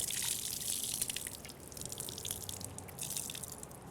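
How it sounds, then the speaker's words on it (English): A soapy car wash mitt is wrung out beside a bucket, letting water drip and trickle down in a steady, close patter that continues throughout with no voices. "just go ahead and wring it out outside of the bucket"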